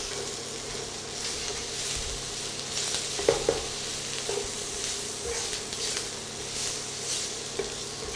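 Mushrooms sweat in a hot pan for pork medallions in cream, a continuous close sizzle broken by occasional stirring clicks and scrapes, no speech.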